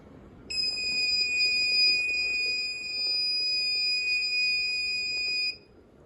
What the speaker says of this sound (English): if you don't do these steps correctly, the alarm will go off.